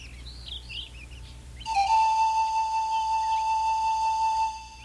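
A nightingale's song is imitated by whistling: a few faint, high chirps are followed by one loud, steady whistled note held for nearly three seconds, alone and close.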